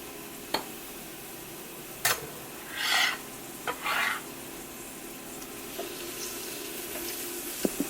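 Garlic and peppers hitting a hot pan: a faint background sizzle with a few short bursts of hissing and stirring scrapes, plus scattered light clicks and taps, no talk.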